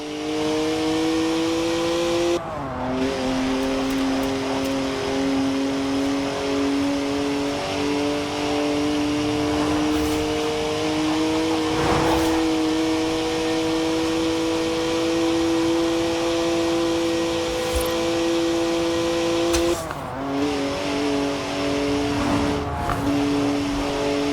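A BMW 3-litre twin-turbo straight-six with 335 horsepower drives in Forza Horizon 4, holding a loud, steady engine note. Brief gear-change dips come near the start and again around twenty seconds, with no talking over it.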